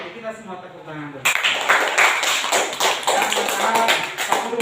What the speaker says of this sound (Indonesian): Oke, kita semua tepuk tangan dulu.